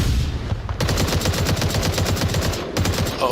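Rapid automatic gunfire rattles loud and close throughout a match of the VR shooter Onward at a championship semi-final, in dense continuous bursts with brief gaps.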